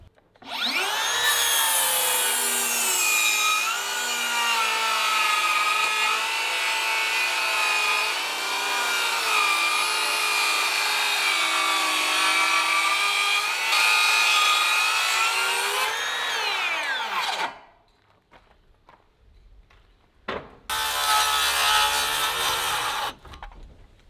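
A powered saw cuts a long, precise line through wood during porch framing on a cabin in the woods, a loud sustained whining drone for about sixteen seconds, then a brief pause before a shorter burst.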